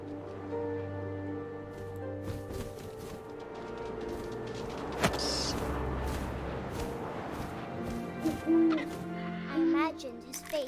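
Owl hooting as a sound effect in a spoken story, with repeated hoots over a steady, tonal background bed that runs throughout.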